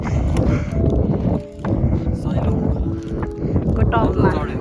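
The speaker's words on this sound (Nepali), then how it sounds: "हावा चाहिँ खतरा आउँदो रहेछ यहाँ" Strong wind on Sailung hilltop in Dolakha, Nepal, buffets the microphone with heavy low rumbling gusts that briefly drop off, while a person talks throughout.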